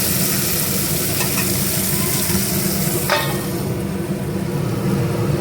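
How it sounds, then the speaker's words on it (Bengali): Tomato and onion frying in a pan with salt, a steady loud sizzle with stirring scrapes throughout, a brief brighter crackle midway, no talking. "এই যে টমেটো পেঁয়াজ ভাজা হয়ে গেছে"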